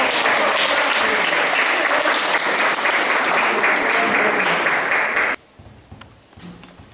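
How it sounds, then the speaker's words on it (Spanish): Loud, dense applause from a crowd at a school magic festival fills the space for about five seconds, then cuts off abruptly, leaving quiet room noise with faint voices. "¡Un aplauso!"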